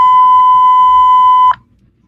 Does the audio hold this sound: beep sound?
yes